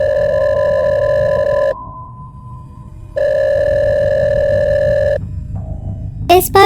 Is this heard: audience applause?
no